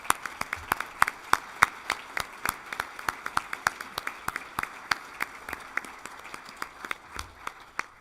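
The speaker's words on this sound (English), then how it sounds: "Let's give them a round of applause." A modest audience at an award ceremony applauds, giving steady, distinct individual claps in an irregular rhythm that continue throughout at moderate loudness.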